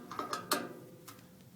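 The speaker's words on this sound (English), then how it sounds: "you have to take these two screws out" Screws being taken out while assembling a Grillmaster grill, heard as a few soft mechanical clicks and short ratchet-like ticks, close and quiet, with no talking.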